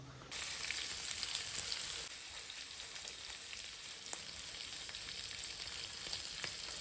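Squid pieces shallow fry in reused masala oil, giving a continuous even sizzle with scattered small pops throughout.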